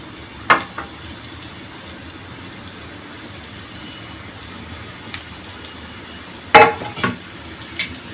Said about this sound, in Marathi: तेल गरम झालेलं आहे आता आपण त्याच्यामध्ये कांदा टाकू